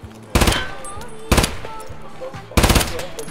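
Gunfire in Escape from Tarkov: three loud, evenly spaced bursts of rapid automatic shots, with someone speaking faintly in between.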